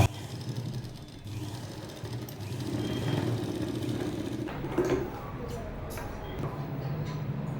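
A sewing machine stitches the round neckline of a blouse about half an inch from the edge, giving a steady close mechanical whir and hum that runs throughout with slight changes in speed.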